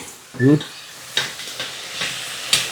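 Onions frying in plenty of coconut oil for chicken curry give a soft sizzle with stirring scrapes and clinks in the pan. A brief voice-like sound comes early.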